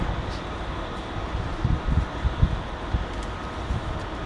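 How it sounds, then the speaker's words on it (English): A Sheffield-bound passenger train pulls in at Derby station, a low rumbling roll with rhythmic wheel thumps building midway, mixed with wind noise on the microphone. "here comes the Sheffield train calling at Derby and Chesterfield."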